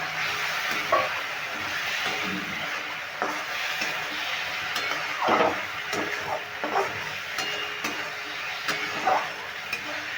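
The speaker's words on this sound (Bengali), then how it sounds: "আবার একটু জল দিয়ে জল দিয়ে ভালো করে কষিয়ে নেব" Spice masala being sautéed with a little water in a pan for bottle gourd chana dal, a steady close sizzle and hiss with occasional stirring scrapes, no talking.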